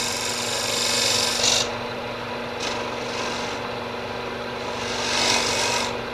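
Wood lathe tool shearing across a spinning tulip-shaped wooden vessel while cleaning up tool marks, a steady close rasping scrape that swells in a few louder passes, no voices.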